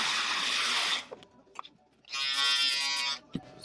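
An electric shaver buzzes during a skin fade haircut in a barbershop, two close, loud bursts of bright buzzing separated by a quiet gap with small clicks and handling noises.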